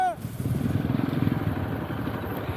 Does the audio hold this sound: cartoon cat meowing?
no